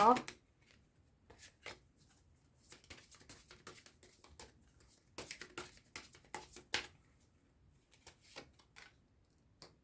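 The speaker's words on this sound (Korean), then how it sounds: "수호신의 10월 메시지 카드부터 뽑아보도록 할게요" Oracle message cards are shuffled by hand in a series of quick, crisp riffling bursts. The shuffling is close and soft, with short pauses between the flurries.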